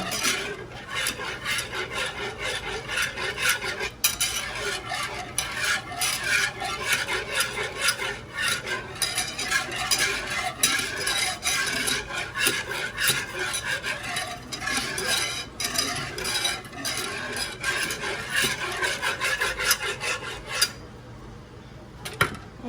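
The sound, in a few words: whisking Alfredo sauce in a pan over slow heat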